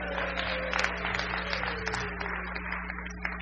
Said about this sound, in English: we should give a round of applause to our cameraman here who graduated yesterday